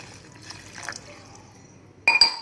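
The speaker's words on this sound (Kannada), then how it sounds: "ನೀರು ಹಾಕ್ತಾಯಿದ್ದೀನಿ" Water is poured into a thin tomato rasam. A quiet stretch gives way to a sudden splashing gush near the end.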